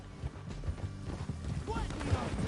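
Horse hooves clip-clop in Red Dead Redemption 2, a quick run of muffled thuds under a game soundtrack, with a voice speaking briefly in the middle.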